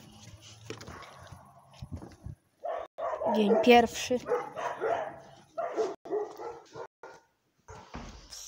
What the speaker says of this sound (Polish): jeśli to słyszycie, to są moje psy